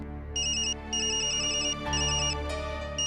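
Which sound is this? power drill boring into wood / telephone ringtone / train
telephone ringtone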